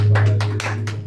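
A church congregation claps in praise during a worship service, with a short burst of a few loud, close hand claps over a low hum.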